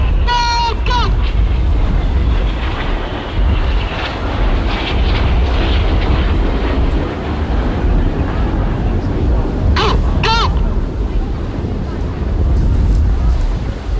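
Red Arrows RAF jets fly past low at the 2022 Bournemouth Air Festival with a loud, continuous roar mixed with wind buffeting, while an announcer talks over the noise.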